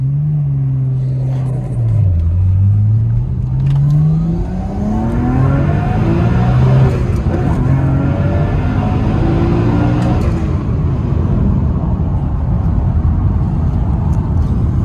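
Nissan R35 GTR with a swapped Ford Powerstroke diesel engine accelerating hard on an open road: a loud, continuous engine roar that climbs in pitch through the gears across the pull, with no talking.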